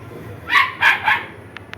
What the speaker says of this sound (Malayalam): ഒരു പേട്ട് പട്ടിയുണ്ട് ആ പട്ടി സൗര്യം തരില്ല കേട്ടോ